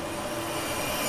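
A passenger train bound for Daejeon in South Korea rolls along with a steady, loud rumbling roar and faint high squealing from the wheels, heard continuously from inside the carriage with no voices.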